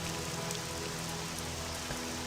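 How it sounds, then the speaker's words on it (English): Steady, dense rain in the video game Morrowind pattering on a surface, a constant broadband hiss with a low hum beneath, no voices. "Let me wait for the rain to subside."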